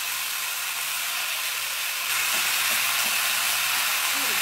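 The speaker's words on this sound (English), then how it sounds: "Let's brown about 2 pounds of hamburger meat." About two pounds of hamburger meat browning in a pan for Southern goulash, a steady, loud broadband sizzle and hiss close by, getting slightly louder midway, with no talking.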